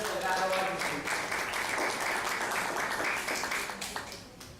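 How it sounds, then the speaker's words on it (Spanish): Sustained applause from a sizeable audience, a dense wash of clapping that stays loud throughout and begins to thin toward the end. "Recibamos con fuertes aplausos al doctor Fernando Delgado Valdés."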